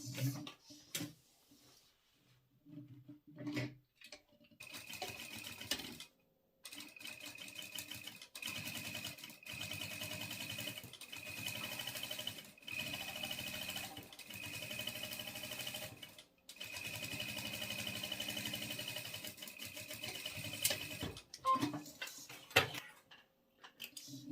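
A domestic sewing machine runs in long, steady stretches while stitching seams on a small Christmas fabric basket, its quiet mechanical whir broken by short pauses and faint handling clicks.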